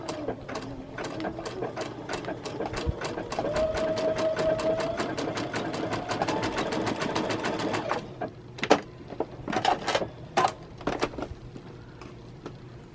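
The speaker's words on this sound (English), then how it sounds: "The other thing I recommend is stitching it on a piece of scrap." Sewing machine stitching on a piece of scrap muslin, a fast, steady close-up rattle of needle strokes for several seconds, then stopping and giving a few separate short bursts and clicks.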